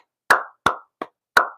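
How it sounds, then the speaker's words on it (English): Four separate hand claps sound close and sharp, evenly spaced, the third one softer, with no voices. "let's give Joshua Van a round of applause"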